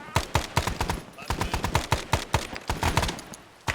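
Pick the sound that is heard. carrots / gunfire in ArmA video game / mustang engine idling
gunfire in ArmA video game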